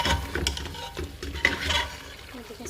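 Potatoes and spices stir-fried in a pan for masala aloo baingan sabzi, with soft scraping and stirring of a spoon against the pan and a gentle sizzle, close by and steady, no talking.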